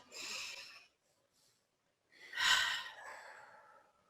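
A deep breath in and out during a guided relaxation exercise, an airy inhale followed after a pause by a longer, louder exhale that fades out gently, close and quiet with no talking.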